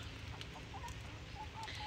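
Backyard chickens give short, soft clucks in a few scattered bursts against a steady low hum, faint and fairly distant, with no talking.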